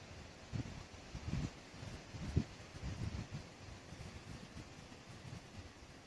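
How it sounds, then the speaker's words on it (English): Strong wind gusting through trees in remote countryside near a river, a steady broadband rush with low buffeting surges rising and falling, no voices. "It's very windy."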